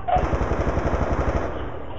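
Automatic gunfire in a shooting video game, heard as a rapid, steady burst of closely spaced shots lasting nearly two seconds before cutting off.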